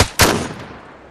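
Two sharp gunshots crack in quick succession in the Beyond Sandbox video game. Each is followed by a short, fading echo tail.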